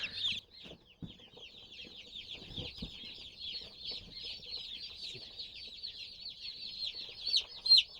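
Young broiler chickens in a brooder keep up a steady, close chorus of high peeping and clucking, with a few soft handling thumps near the start.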